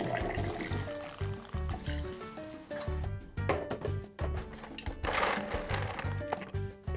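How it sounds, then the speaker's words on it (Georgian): Havana Club rum poured for a Cuban mojito, a steady close liquid stream trickling into a glass over several seconds, with light clinks and bar handling noises around it. "დავამატოთ 50 მილილიტრი ჰავანა კლუბი."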